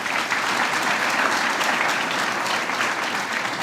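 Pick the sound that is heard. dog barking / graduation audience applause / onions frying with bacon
graduation audience applause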